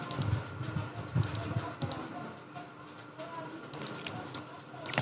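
Keys tapped on a computer keyboard while filling in personal details on an online e-pass application form, with light irregular clicks in short bursts under steady room noise and faint bird cooing.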